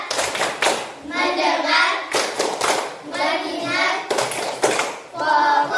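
Children in an Indonesian classroom perform a rhythmic clapping chant led by a teacher, with several bursts of group clapping between spoken call-and-response lines. The claps are loud and close, and voices chant over and around them.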